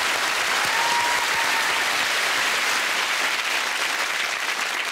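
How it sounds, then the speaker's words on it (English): A studio audience on a comedy panel show breaks into steady, loud applause that fills the whole stretch without letting up. "I think they deserve a round of applause from us."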